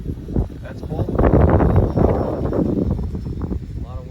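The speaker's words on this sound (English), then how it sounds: "lot of wind" Strong wind buffets an outdoor microphone in steady, rumbling gusts that swell in the middle, with no talk in the moment, around an ultralight Bearcat aircraft flight over a cornfield.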